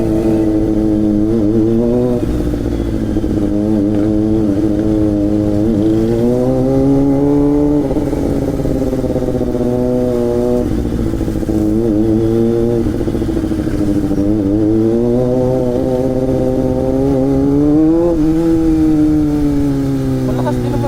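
A Kawasaki ZX25R with an inline-four engine revs hard and close, its high-pitched scream rising and falling in repeated sweeps over a constant loud engine drone.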